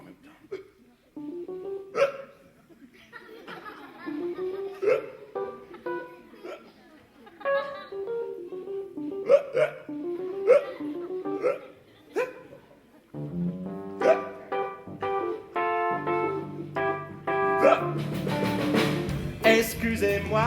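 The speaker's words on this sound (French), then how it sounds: "Excusez-moi, mais j'ai le hoquet." A performer at a live jazz concert voices a string of rhythmic, comic hiccups on stage, one after another, before band instruments swell in loudly near the end.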